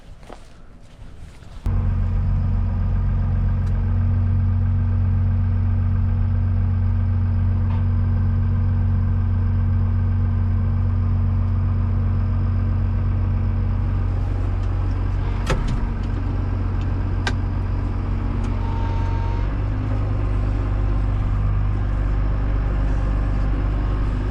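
A tractor engine runs while baling straw on a farm. A loud, steady low drone starts up after a brief quiet moment and continues unbroken, with a few faint knocks and clicks on top.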